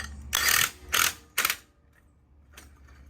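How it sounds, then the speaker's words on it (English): An impact gun tightening a nylock nut on a T-Bar wheel, three close rattling bursts in quick succession followed by a softer brief buzz after a pause. "I'm cheating with an impact gun here, but you can use a couple of 3/4 wrenches."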